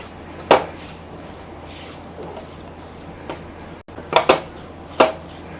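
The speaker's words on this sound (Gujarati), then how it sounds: "તેને કોન્સ્ટન્ટ મિક્સ કરતા રહીશું, જેથી કરીને તે ચોંટે નહીં અને લોટ ગુલાબી થાય ત્યાં સુધી તેને શેકી લઈશું" Gram flour dry-roasts in a pan for sukhadi while a spatula stirs it, giving a few sharp, sparse knocks and scrapes against the metal with quiet pauses between them and no talking.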